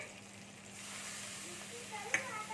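Spice mix with mustard, turmeric and salt frying in a pan for okra pachadi, a soft continuous sizzle with faint stirring and a brief sharp tap near the end, quiet and close.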